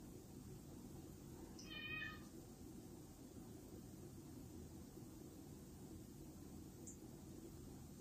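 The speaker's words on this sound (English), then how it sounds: "That's my cat crying." A house cat named Frisky lets out one short, faint meow early on, crying over a steady hiss of background noise in a quiet room.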